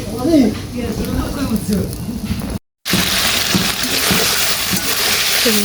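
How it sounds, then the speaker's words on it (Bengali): Spiced, marinated meat frying in a home kitchen pan, a steady close sizzle and hiss running throughout, with someone talking over the first half and a brief dropout midway. "মাংসগুলো হচ্ছে আগে ভাইজা নিতেছি"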